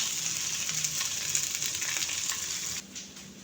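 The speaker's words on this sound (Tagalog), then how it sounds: "Kailangan maamoy ng ating kapitbahay ang aromatic ng ating ginger and garlic na niluluto" Ginger and garlic sizzle steadily in a hot pan as aromatics for pork sinigang, a dense, close frying hiss that runs unbroken and softens slightly near the end.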